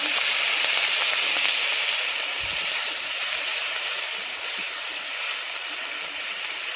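Slit green chillies and onion paste fry in hot oil for a Bengali bhola fish curry, giving a steady, close, bright sizzle with soft crackles throughout.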